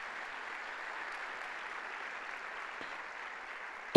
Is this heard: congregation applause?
yes